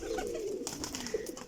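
Pigeons coo in a low, rolling, continuous burble close by, with a few brief rustles and no talking.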